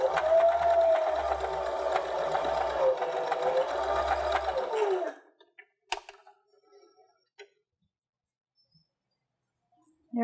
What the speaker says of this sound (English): Let's take it over here and sew our quarter inch seam allowance.